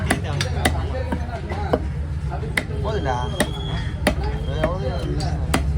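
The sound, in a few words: knife chopping Thirukkai fish (stingray) at Kasimedu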